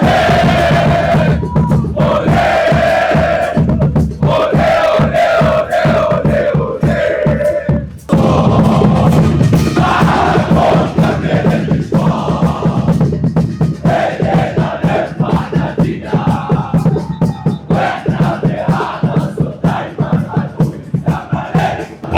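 Zamalek supporters in a packed stadium stand, Curva Sud, at a match against Petrojet roar a loud, rhythmic chant in unison that carries on without break, with a brief lull before the voices surge back even stronger.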